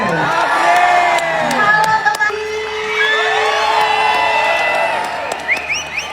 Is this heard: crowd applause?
yes